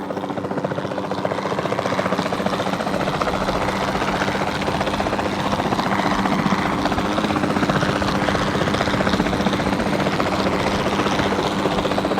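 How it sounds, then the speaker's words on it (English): A capture team helicopter in Jurassic World Evolution 2 flies steadily, its dense rotor thrum and engine whine holding loud and constant throughout with no talk over it. "the sensible thing is to take a capture team helicopter"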